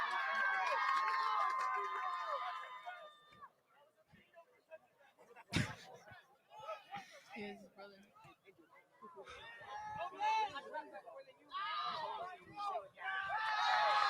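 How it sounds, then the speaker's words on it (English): Dickinson's cheering section at a high school boys soccer quarterfinal against Kearny, a mix of crowd shouts and chatter rising and falling, with a loud sharp thump midway and voices throughout. "And Dickinson's cheering section now seems louder than they've been all night."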